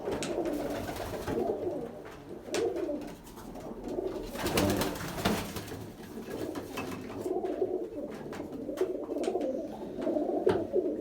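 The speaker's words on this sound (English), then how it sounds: "that's a hen, and look what it's doing, cooing" A pigeon hen coos repeatedly in soft, low, rolling phrases, close by, with light rustling and other birds in the background.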